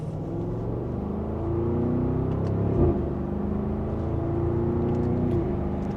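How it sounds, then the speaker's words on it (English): A 2026 Audi SQ8 in dynamic mode accelerates gently in second gear, with a steady engine hum that rises in pitch under a continuous interior rumble and no talking. "And just a mild acceleration."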